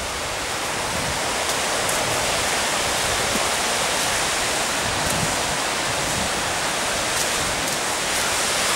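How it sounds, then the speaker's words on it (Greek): The Leivaditis waterfall pours in a constant, loud broadband roar of rushing water, heard close up from a hiking trail, with no voices. "Τα νερά από παντού φαίνονται και ακούγονται."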